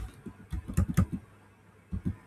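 Keys on a computer keyboard clack in two short bursts while CSS code is typed, close and fairly quiet, with a brief pause between the bursts.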